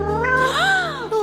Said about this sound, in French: Oh, viens ici, mon chaton